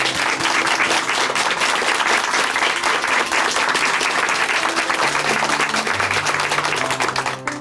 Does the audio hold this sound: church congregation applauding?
yes